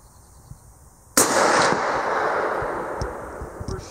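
A single loud, close rifle shot from a Winchester 94 lever-action in .375 Winchester fired outdoors, a sharp crack followed by a long rolling echo that slowly fades, with no talking.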